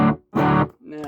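An electric guitar played through a Peavey Classic Chorus 212 amp on its high gain channel gives three short, loud, distorted strums separated by brief silences.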